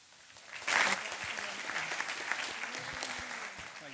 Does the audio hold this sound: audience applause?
yes